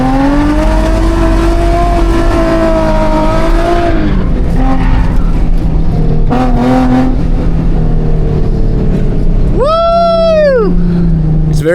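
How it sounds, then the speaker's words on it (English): A car engine on a track revs hard and steadily while drifting, its loud tone rising and falling as the revs shift. A brief, sharp tire squeal cuts in near the end. "gaining speed, kicking the clutch more, staying in the RPMs, and just hucking that thing"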